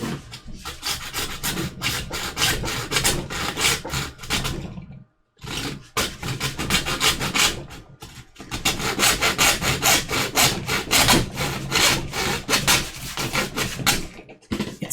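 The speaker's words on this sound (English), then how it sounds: "review of cheapest hacksaw I could get" A cheap hacksaw cuts back and forth in steady, loud, raspy strokes, stopping briefly once before resuming, close up with no talking.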